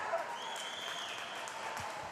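A crowd at a hockey game erupts in sustained cheering and applause just after a goal, a continuous roar heard from within the arena.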